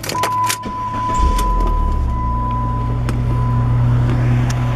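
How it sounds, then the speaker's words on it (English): Power push-button black soft top of a 2005 Chrysler PT Cruiser Turbo GT convertible running, a loud, steady electric motor hum and whir after a few opening clicks, holding for several seconds without talk. "power push button top"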